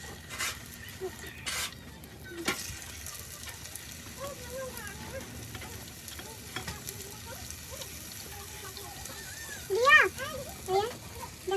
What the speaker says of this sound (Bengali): আলু ভাজা হচ্ছে